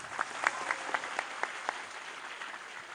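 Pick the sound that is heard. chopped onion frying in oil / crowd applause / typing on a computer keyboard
crowd applause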